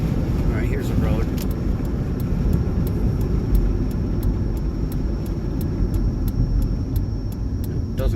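A 2010 Grand Caravan with a hand-ground rear brake rotor rolls along a road, giving a steady broadband road and engine rumble with a faint regular ticking throughout and a voice speaking briefly near the start.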